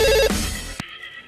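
A brief electronic phone ring, two quick high beeping bursts repeated, then a muffled click and quiet room tone.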